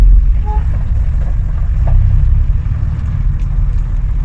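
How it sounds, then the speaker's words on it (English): A Bristol VR double-decker bus, registration PKE809M, pulling away in first gear from the driver's seat, with a steady low engine drone and rumble that builds slightly as it moves off, loud and continuous with no talking. "So what we do, up into first gear, handbrake off, and off we go."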